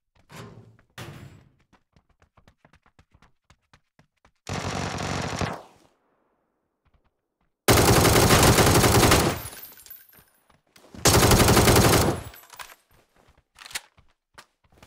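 Vector submachine gun fire in a video game: several loud, close bursts of rapid automatic shots, each lasting one to two seconds, separated by quieter gaps with small clicks and thuds.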